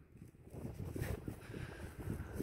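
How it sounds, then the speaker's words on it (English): Strong wind blows across an open pasture on a homestead with Dexter cows, a rough rushing buffet against the microphone that swells and gusts without pause. "it's windy as all get out here"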